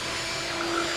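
A power drill whines continuously as its bit bores into a plastic 5-gallon bucket, a steady, loud, close sound with no talking.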